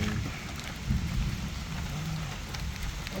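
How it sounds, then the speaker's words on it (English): Heavy rain pours down in a steady, dense hiss with low rumbling, filling the scene without a break. "Come out of rain, man, with your catch cold, man."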